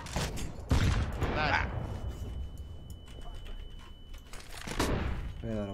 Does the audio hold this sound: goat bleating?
no